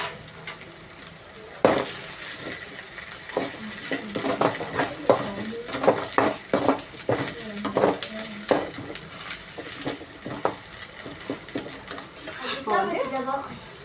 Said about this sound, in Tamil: இஞ்சி பூண்டு வாசனை கொஞ்சம் போகணும். அதுக்காக கொஞ்சம் வதக்கிறேன்.